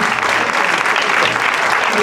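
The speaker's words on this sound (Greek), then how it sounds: "Δώστε τους ένα μεγάλο χειροκρότημα." Steady, loud applause from an audience at a traditional music performance on Kythnos, a continuous wash of many hands clapping close by without a break.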